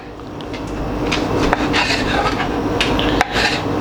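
A knife saws roasted corn into chunks on a board in a home kitchen, a steady close scraping and rasping with a couple of sharp knocks, while a person talks over it.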